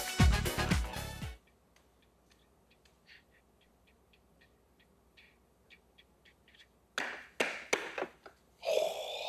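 Four stopwatches beep in a tight cluster of short electronic tones, close together like a volley, in a quiet TV quiz studio, followed by brief noise and a voice.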